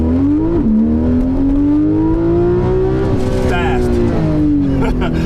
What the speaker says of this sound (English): Revving it up, taking it all the way up to the tippity top of the RPM band